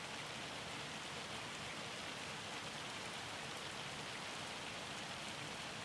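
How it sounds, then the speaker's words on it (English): Dense, steady patter of hail drumming down in Farming Simulator 25, a continuous hiss of many small impacts with no voices. "Yeah, that's definitely hail."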